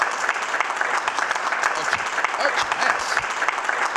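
Studio audience applause on a television show, a continuous, energetic wash of many hands clapping, with voices mixed in.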